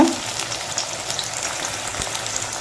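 Onion fries in a pan over a low flame with a soft, steady sizzle that stays even and close throughout, with no talking.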